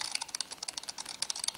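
Quick, uneven clicks and taps repeat closely and steadily, like fast tapping on a device while playing the game Bitcoin Billionaire, at moderate level with no voice.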